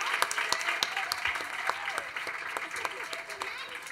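Audience applause at a student awards ceremony, a steady patter of clapping with a few sharper claps standing out, with voices and murmuring mixed in.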